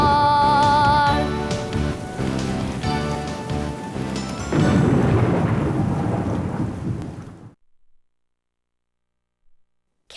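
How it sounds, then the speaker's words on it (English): Thunder rumbles loudly over steady rain in the Philips CD-i game The Weather Kitchen, layered with a playful musical tone, continuing for about seven seconds before cutting off into near silence with a faint trailing sound. "Can you pick the right ingredient to cook up a thunderstorm?"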